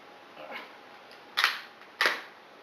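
A bolt-action rifle's trigger blade safety gives two sharp, close mechanical clicks about half a second apart, preceded by a softer handling noise, in an otherwise quiet setting.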